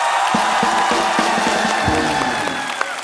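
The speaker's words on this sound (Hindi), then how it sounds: "बस अब जोरदार तालियां हो जाए मेरे।" A studio audience at a comedy show bursts into loud cheering and applause, a dense sustained crowd roar with whoops and rhythmic claps pulsing through it.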